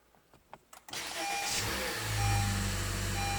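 A 2015-2017 Honda Fit with a newly replaced starter cranks briefly and catches, then settles into a steady, close idle that fills the rest of the moment, with a few faint clicks and rustles before it fires.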